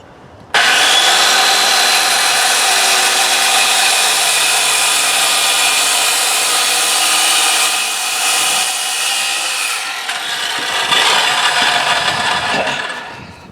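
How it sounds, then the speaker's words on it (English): A circular saw with its blade set to 3/4 inch cuts a channel along a board, a loud, steady, high whine that starts abruptly and runs for several seconds before it winds down near the end. "I've got my circular saw blade depth set at 3/4 inch, and I want to just cut a channel down the length of this board"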